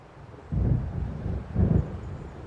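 Thunder from an approaching storm in the video game Alan Wake rolls in as two low, deep rumbles, muffled and moderately loud, with no voices.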